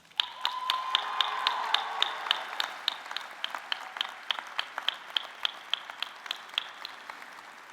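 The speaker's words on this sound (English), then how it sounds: "Graduates, please express your love and gratitude to all these people with a round of applause." Graduates at a university nursing and health professions commencement give a round of applause, dense clapping that swells early then thins into scattered, distinct claps fading over several seconds.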